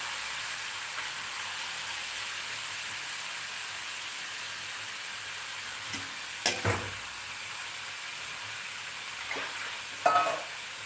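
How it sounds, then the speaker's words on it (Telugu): Chopped bottle gourd pieces fry in a pan, giving a steady soft sizzle with a few brief stirring scrapes near the middle and end. "అన్ని చిన్న చిన్న ముక్కలు చిన్న తరిగిసిన ఆనపకాయ వేసుకుంటాం"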